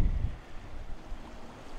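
A gale gusts around a sailboat moored in Monaco harbour, a low rumbling buffet that hits hard at first and then settles into a softer, steady rush.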